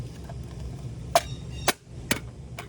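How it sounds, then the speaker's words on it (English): A car brake cover is tapped into place, four sharp, distinct knocks spaced about half a second apart, close and fairly loud against a quiet background. "Cover just gets tapped into place."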